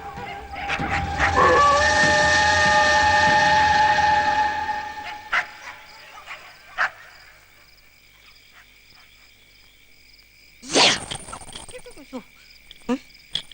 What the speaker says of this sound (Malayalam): ഇതിലേത് പട്ടിയാണാവോ പ്രേമദാസൻ പട്ടി?